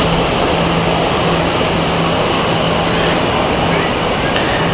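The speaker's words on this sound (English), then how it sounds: "So this is the Vancouver flight from Edelweiss flight 10" An Edelweiss Airbus A340 on the Vancouver flight at Zurich Airport: a loud, steady wall of engine roar and broadband rumble, constant throughout, with no breaks.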